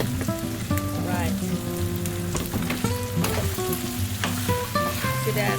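Seasoned rice frying in a pan with spam and olives, a continuous close crackling sizzle under a melodic tune that plays throughout, with no talking.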